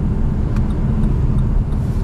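Low, steady road rumble of a Lada Vesta SW Cross with a 1.8 engine being driven, a continuous droning hum with no talking over it.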